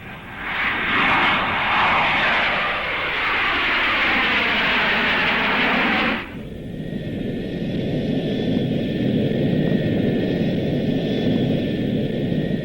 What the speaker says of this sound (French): Je reconnais ce moteur-là. Oui, c'est l'avion dans lequel je me trouvais.